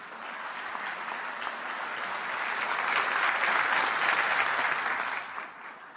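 Sustained applause from a large crowd at a military academy graduation ceremony honoring young women lieutenants, a dense clapping roar that swells over several seconds and then begins to fade.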